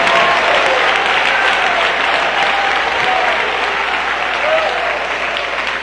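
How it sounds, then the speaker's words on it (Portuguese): A church congregation claps and applauds in a loud, dense, continuous roar of hands, with a voice faintly audible underneath. "desocupem suas mãos para aplaudir melhor o Senhor, dando palmas e glórias ao nome dEle"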